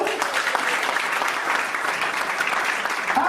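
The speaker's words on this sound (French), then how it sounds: "Applaudissons pour nous." A conference audience applauds steadily, with dense clapping from many hands that holds even and loud throughout.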